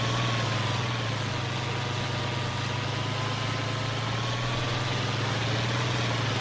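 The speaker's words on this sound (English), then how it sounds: "Go, tractor, go." A tractor engine in Farming Simulator 25 drones at a steady low idle-like hum with a faint whine above it, continuous and even, with no talking.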